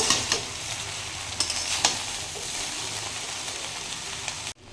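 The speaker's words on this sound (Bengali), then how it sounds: "এবার আমি সমস্ত কিছুকে ভালোভাবে একটুখানি ফ্রাই করে নেব।" Egg fried rice ingredients with sugar being stir-fried in a pan, a loud continuous sizzle with a few sharp scrapes and clacks of the spatula, ending with a sudden cutoff.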